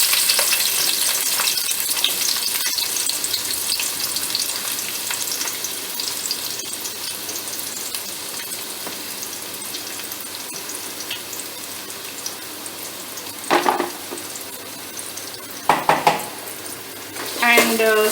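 Onions and green chilli sauté in a pan for vegetable vermicelli biryani, a loud constant sizzle and spluttering hiss, with a few sharp utensil scrapes and clinks against the pan toward the end.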